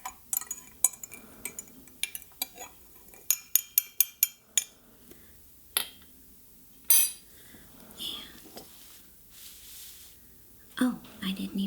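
A spoon stirs tea in a cup, clinking sharply against the sides in a quick run of close, bright taps, followed by occasional softer clinks while a voice speaks quietly between them.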